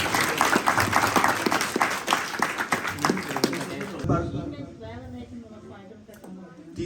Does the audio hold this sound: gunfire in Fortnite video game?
no